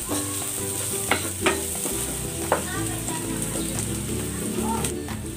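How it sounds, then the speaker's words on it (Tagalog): Garlic and onion sautéing in a little oil in a pan for chicken, a steady close sizzle throughout with a few sharp clinks of a utensil stirring against the pan. "Igisa na natin tong bawang. Lagay na natin tong sibuyas."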